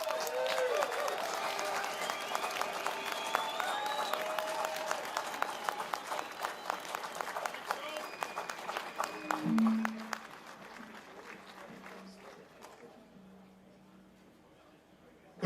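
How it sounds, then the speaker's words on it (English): Crowd applause at a farmers' protest in central London over inheritance tax, steady outdoor clapping and cheering that fades out, with a voice speaking over the tail. "another round of applause for Tom Bradshaw from the NFU"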